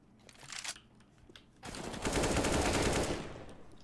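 Gunfire in a first-person video game shooter: a few sharp shots, then a dense sustained burst of automatic fire at close range, with faint talk in the background.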